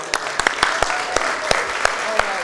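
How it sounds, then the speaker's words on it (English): Scattered clapping from an audience greeting the cast of Finding Dory at a press event, irregular sharp claps rising over a murmur of voices. "This cast did a tremendous job. Please give them a round of applause."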